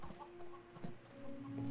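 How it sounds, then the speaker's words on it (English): Chicken clucking from the video game Apex Legends, a few short clucks over a steady game background hum, fairly quiet and close. "That's some fat chicken."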